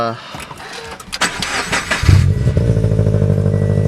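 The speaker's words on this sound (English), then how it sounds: "let's just give her a little start, which she's gonna be a little loud" A Subaru BRZ sports car engine, unused for about two weeks, cranks briefly, then catches and fires up into a loud, rumbling idle that continues steadily.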